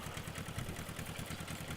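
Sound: tractor engine revving in video game

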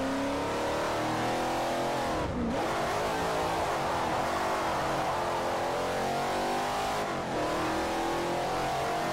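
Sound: car drifting in video game Forza Motorsport 4

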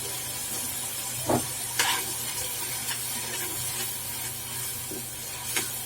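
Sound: onion tomato masala frying, stirred

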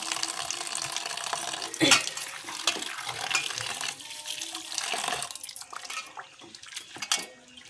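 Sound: washing red amaranth leaves in water

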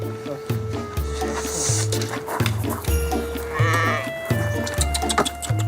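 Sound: sheep bleating

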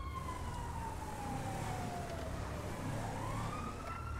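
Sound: police car siren

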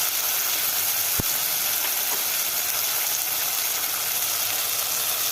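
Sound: chopped green chili sizzling in hot oil

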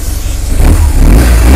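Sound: BMW R1200GS boxer engine revving, standard exhaust

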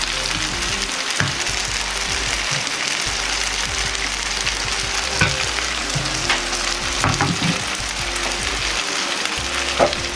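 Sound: wing-style yakisoba noodles sizzling while pan-frying

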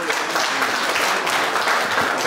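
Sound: audience applause welcoming a pan flute performer

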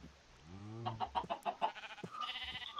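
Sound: chicken clucking in the video game Minecraft

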